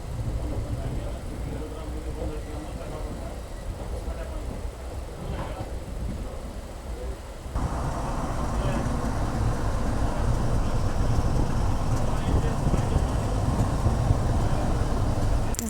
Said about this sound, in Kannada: ನೋಡಿ, ಪ್ಲ್ಯಾಟ್ಫಾರ್ಮ್ ನಂಬರ್ 1ಗೆ ಹೋಗ್ತಾ ಇದೆ ಟ್ರೈನ್.